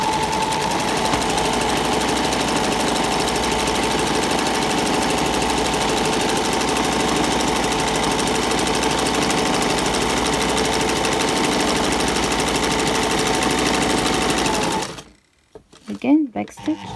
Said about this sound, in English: I'll just start slowly and do a little back stitch just to secure the threads